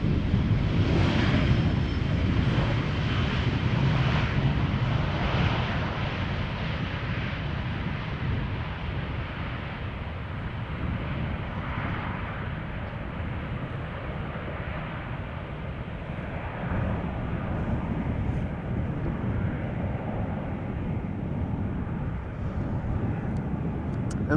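An Aer Lingus airliner arriving at Amsterdam Schiphol Airport, with snow on its nose, gives a broad, continuous jet roar that is loud at first and eases gradually over about twenty-five seconds, with no talk.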